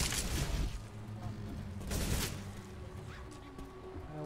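Gunfire in the video game Left 4 Dead 2 sounds as two faint, rough bursts of rapid shots, one at the start and one midway, with quieter game noise in between.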